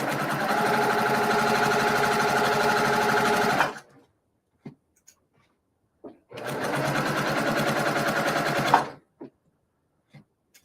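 Sewing machine stitching quilt block pieces, two steady close runs of fast mechanical whirring about three seconds each, separated by a quiet pause with small clicks and handling noises.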